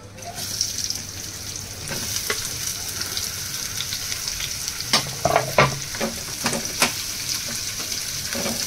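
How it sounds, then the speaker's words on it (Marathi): Onion frying in a hot pan with whole garam masala while cooking a fresh cashew vegetable dish: a steady, close sizzle with intermittent crackles and pops, occasional stirring scrapes, no talking. "कांद्याला मस्त गुलाबी कलर येईपर्यंत भाजून घेऊया."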